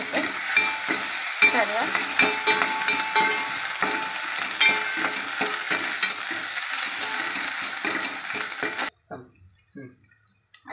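Ginger garlic paste is stirred into pav bhaji vegetables frying in a pan, giving loud close sizzling with rhythmic scraping strokes that stop abruptly near the end, followed by near silence and a briefly spoken word.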